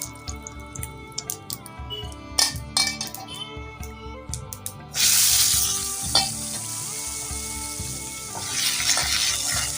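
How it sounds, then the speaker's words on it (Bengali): Cumin and mustard seeds tempering in hot oil in a fish and pumpkin kitchen, with scattered clinks and taps giving way halfway through to a loud, steady sizzle that holds to the end, no talking. "এদের মধ্যে একটু জিরে সর্ষে ফোড়ন দিচ্ছি"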